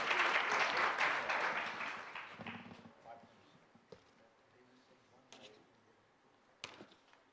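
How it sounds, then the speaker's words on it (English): Audience applause at an ESG roadshow event in Noida for the CEO giving closing remarks: a dense burst of clapping that fades over a few seconds, leaving a few isolated claps. "Can we have a huge round of applause for him"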